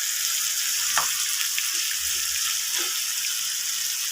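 Ginger hitting hot oil in a pan while cooking Malabar spinach with potato and dried fish, giving a steady, close sizzling hiss throughout with a few soft stirring clinks.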